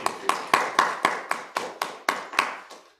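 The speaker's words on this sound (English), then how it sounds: "Can you hear our applause?" Audience applause heard as a sparse series of about ten distinct, evenly spaced claps, crisp and moderately close, with no talking over them.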